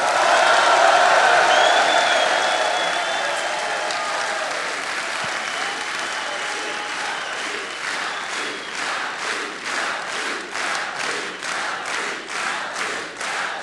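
A large crowd at a French political rally applauds loudly, a dense wash of clapping that eases slightly, then settles into rhythmic, pulsing unison clapping toward the end.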